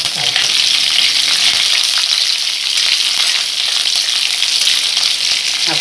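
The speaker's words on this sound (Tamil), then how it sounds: "இப்பொழுது கடுகு கடலைப்பருப்பு பொரியிற நிலைக்கு ஆயிடுச்சுங்க" Mustard seeds and chana dal fry in hot oil for kuli paniyaram tempering, a loud, close and continuous crackling sizzle with scattered pops throughout.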